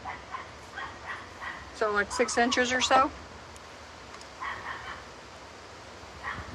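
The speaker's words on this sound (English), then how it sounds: "Apologize for the dog barking." A neighbor's dog barks in a quick burst of several yips in the background while a person talks outdoors in a vegetable garden.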